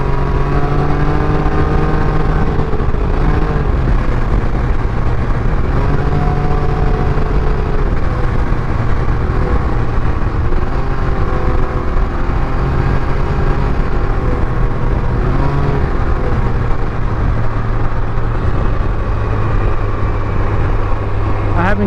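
A Can-Am Ryker three-wheeled motorcycle engine drones loud and close throughout the ride, a continuous rumble whose pitch rises and falls gently as the speed changes.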